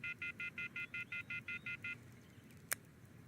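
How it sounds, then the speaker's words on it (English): A cell phone in the video game Everlasting Summer dials a number: eleven quick, evenly spaced keypad tones in a steady rhythm, then a short, sharp electronic blip after a pause. "I took out my cell phone and dialed the first number from my contact list."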